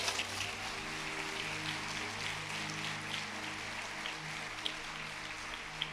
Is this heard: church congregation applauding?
yes